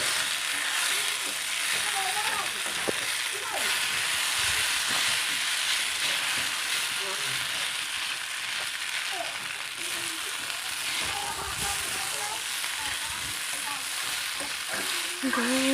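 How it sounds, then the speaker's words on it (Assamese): Boiled Maggi noodles sizzle loudly and without a break as they are stirred and fried in a pan, with scraping stirring strokes close up over the hiss and no voice heard. "মেগী বইল কৰি থোৱা ঢালি দিলোঁ। ধুনীয়াকৈ লৰাই দিম এতিয়া।"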